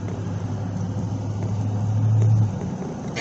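A 2016 Chevy Silverado with a 5.3 engine and Borla exhaust, showing a P0300 misfire code, drives along with a low, steady exhaust drone that builds briefly before easing off.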